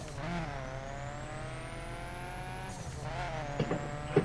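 A stock Hemi car engine in the racing game The Crew, holding a steady revving whine that climbs through a gear, drops briefly on a shift and rises again, with light tire noise near the end.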